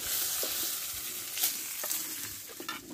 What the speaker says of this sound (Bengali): এই তেলে এবার আলুগুলো ভেজে নেব